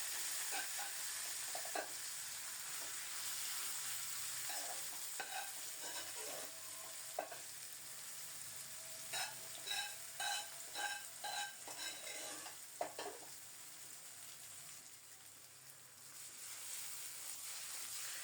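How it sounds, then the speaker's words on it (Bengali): Three dry red chillies and whole cumin temper in hot oil, giving off a steady, fairly quiet sizzle broken by clusters of stirring scrapes and clinks. "তেল গরম হলে 3টা শুকনো মরিচ আর গোটা জিরা ফোড়নে দিলাম।"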